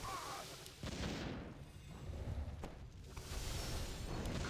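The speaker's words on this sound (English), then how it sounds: "2 mortar teams now" Mortar teams firing in a real-time strategy game match, a few dull booms and rumbling impacts spread across a low, continuous battle din.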